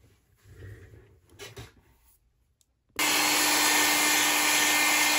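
A heat tool dries mixed media paint on a messy floral layout. After soft rustling, it switches on abruptly into a loud, steady, close blowing roar with a constant whine.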